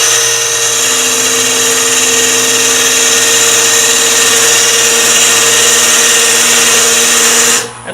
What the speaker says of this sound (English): Go gouge, take this down a little bit.